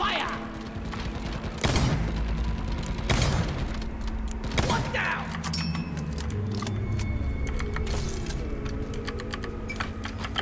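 Rapid gunfire sprays at a breeder creature in Deep Rock Galactic, several bursts of shots with booming impacts over a droning game background, while a voice talks over the action.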